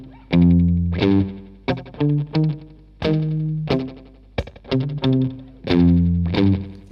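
Electric guitar picked in short, sharp staccato phrases, soaked in wobbling tremolo with spring reverb and delay trailing each note, loud and close.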